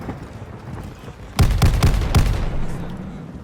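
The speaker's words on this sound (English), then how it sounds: "This upcoming shotgun is called the Einhorn revolving." Einhorn Revolving shotgun firing in the Call of Duty Mobile video game, heard as a quick run of four loud booming blasts close together, standing out clearly against a low background hum.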